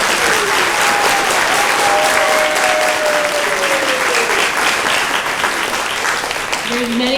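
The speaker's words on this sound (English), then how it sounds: "So can we give her a round of applause?" A crowd applauds loudly and continuously at a school awards ceremony, dense clapping filling the hall with a few cheers and whoops rising above it.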